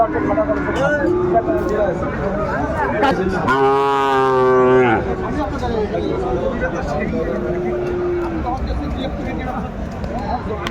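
A Sahiwal bull gives one long, loud, close moo at a busy cattle market in Dinajpur, amid steady crowd chatter and people talking nearby.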